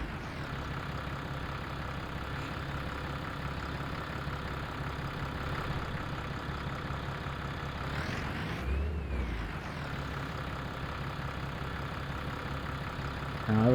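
Steady mid-pitched drone of a tractor engine on a steep hill in the Farming Simulator 25 video game, humming evenly throughout with a brief shift in tone partway through.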